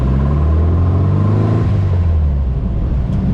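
A manual car with Kadron carburetors pulls away from a stop, its engine rumbling loud and close with a low, steady drone that rises slightly as it moves off.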